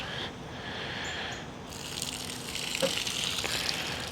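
Water splashes and gushes as a bucket of floodwater drained from a flood-damaged car is poured out, a steady, moderately close wash of liquid that swells and grows rougher toward the end, with no voices.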